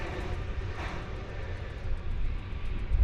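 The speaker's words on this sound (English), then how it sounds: "777 from Tulsa. Again, it's arriving on the east side of DFW Airport." A Boeing 777 from Tulsa arriving at DFW Airport, a steady low jet engine rumble heard from a distance, building slightly louder toward the end.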